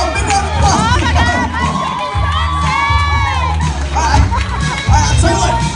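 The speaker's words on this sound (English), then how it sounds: "Oh, come on, big round of applause." Wedding guests at a botanical gardens reception cheer for the flower girl: a loud, sustained crowd roar of shouts, whoops and excited voices, with high children's cries rising above a continuous babble.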